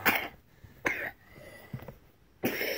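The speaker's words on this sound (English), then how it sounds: "She's coughing up lungs." A few sharp coughs, close by: a burst at the start, another near one second, a softer one later, then a final loud cough.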